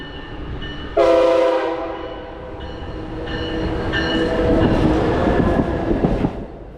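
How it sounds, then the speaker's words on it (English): An Amtrak Acela passenger train sounds a loud, sustained horn blast as it coasts past a station platform on track 3. The horn is followed by a long, steady rush of the passing train, with no talking. "A friendly wave gets another horn blast as Amtrak Acela 2257 coasts by on track number 3."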